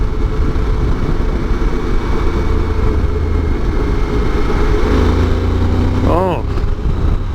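A Suzuki V-Strom 1000 motorcycle engine drones loudly and steadily under acceleration at speed, blended with wind rush, while a rider talks over it.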